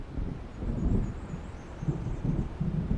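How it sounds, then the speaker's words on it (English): Thunder from an approaching storm in a video game rumbles low and moderately far off in uneven rolling swells, with a faint windy hiss underneath. "It seems there's a storm coming."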